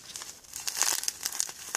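Plastic packet of melon powder crinkles and crackles in bursts of crisp, close rustling, with brief tearing-like scratches, heard alone at moderate loudness.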